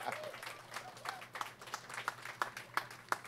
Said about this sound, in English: How about a round of applause for Molly?